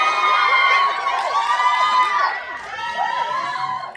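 A large cinema audience at a film Q&A shrieks and cheers continuously, high-pitched screams overlapping in waves, loud and close, tapering slightly toward the end.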